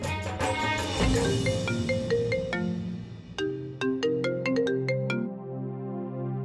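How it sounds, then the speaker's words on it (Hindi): A phone ringtone plays a bright melodic tune of repeated tonal notes in a clear rhythmic pattern, fairly close and alone, with no talking over it. "नायरा मैम का फोन नहीं लग रहा था तो इसीलिए मैंने आपको फोन किया"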